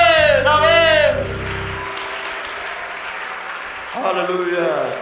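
Church congregation breaks into applause at the close of a service, a broad, steady clapping wash following a voice and lingering under it before another voice rises at the end.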